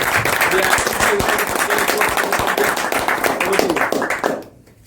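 Audience applause for the acting president at a Toastmasters club meeting, brisk close clapping with individual claps distinct, steady for about four seconds before stopping abruptly.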